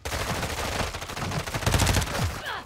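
Rapid automatic gunfire from the video game Call of Duty Warzone, loud continuous bursts of shots packed tightly together, growing denser partway through and stopping abruptly at the end.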